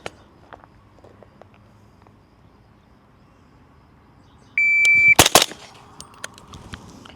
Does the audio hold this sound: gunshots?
yes